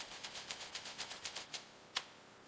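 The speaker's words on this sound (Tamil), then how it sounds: "ரோபோட்டிக் தையல் மிஷின்கள் மின்னல் வேகத்துல லெதரை தைக்க ஆரம்பிக்குது" Robotic sewing machines stitching leather in an automated factory give a quick, even run of about a dozen faint mechanical clicks, then a pause and one sharper click, with no voices.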